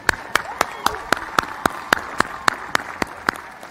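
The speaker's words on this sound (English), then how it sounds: "we'll give you another warm round of applause as we get going today" Applause at Howard University's graduation ceremony, with crisp, evenly spaced claps standing out in the foreground over a broad background of crowd clapping in a large venue.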